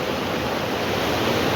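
A river stream flows near a forest guard patrol route, giving a constant, full rushing wash of water that stays close and steady for the whole short stretch, alone without talk.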